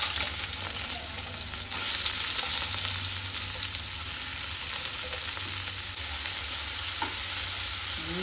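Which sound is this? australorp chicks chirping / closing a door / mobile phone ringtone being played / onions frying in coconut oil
onions frying in coconut oil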